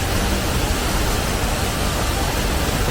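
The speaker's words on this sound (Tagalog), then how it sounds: "Agos ng tubig. Bagsak sa baba kasi kaya yung agos niya sobrang lakas." A waterfall in Hong Kong Park pours with a strong fall of water, making a dense, steady roar of broadband rushing noise that stays even throughout, close and loud.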